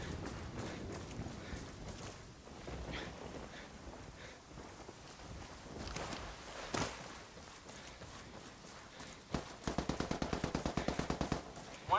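Gunfire in Ghost Recon Wildlands, a faint, distant crackle of shots through most of the stretch, ending in a rapid run of automatic bursts near the close, with no talk over it.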